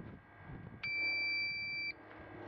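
A solar power inverter gives a single steady electronic beep on power-up, about a second long, sounding once over a faint background hum.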